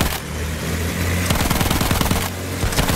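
Heavy machine gun in a video game firing rapid bursts of loud, close shots, with a steady rumbling engine drone underneath and a brief pause between bursts.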